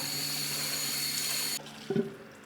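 Cold tap water runs steadily over cooked rice for Iranian baghali polo, then cuts off abruptly, followed by a brief splash and drip, close and fairly quiet.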